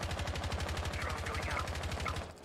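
Rapid automatic gunfire from Rainbow Six Siege fills the whole stretch, a dense steady rattle of shots close and loud, dropping off abruptly near the end.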